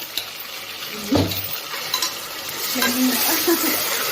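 Ginger paste sizzles and fries in a hot pan, with a steady crackling hiss and a few scraping stirs of a spoon against the pan, close and fairly loud.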